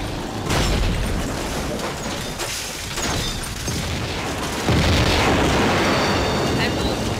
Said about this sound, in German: Wäre der Wagen am Ende nicht explodiert, hätte ich gesagt, perfekt, eingefahren.